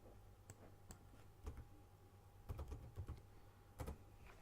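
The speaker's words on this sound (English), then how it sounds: "Let's go to this Excel spreadsheet calculation, and we will type our stop loss as" Scattered keystrokes on a computer keyboard, entering figures into a spreadsheet: a few isolated clicks, then short clustered bursts, fairly quiet and close, with no talking.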